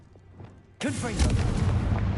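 A Confringo fire-blast spell in Hogwarts Legacy bursts with a sudden loud blast, followed by a crackling, rumbling explosion that carries on for over a second, with a voice speaking in the game.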